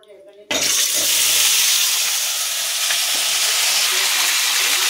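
Eggs dropped into a hot pan for an egg masala start a sudden loud, steady sizzle that hisses on without pause after a brief quiet moment.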